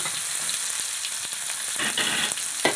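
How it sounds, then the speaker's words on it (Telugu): Goat brain fry sizzles steadily in hot oil in a kadai, a dense continuous crackle with occasional sharper pops, close and loud with no talking. "కడాయి పొయ్యి మీద పెట్టి ఆయిల్ పోసాను వేడైపోయింది ఇప్పుడు కలిపేసుకున్న ఈ మెదడు"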